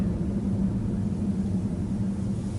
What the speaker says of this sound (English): there's a truck right next to me and you can just hear the rumble of it